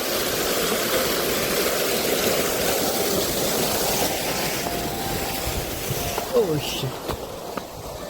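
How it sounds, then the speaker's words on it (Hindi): An irrigation water pump motor runs in a field, producing a steady, loud rushing hum with gushing water, constant from start to finish, with faint voices now and then. "अब ये चल रही है मोटर।"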